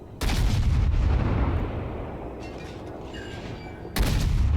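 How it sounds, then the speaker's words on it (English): Heavy naval gun salvos boom in World of Warships, a loud broadband blast at the start that rumbles down into a sustained roar, with a second salvo cracking out near the end. "Take some pot shots while it disappears."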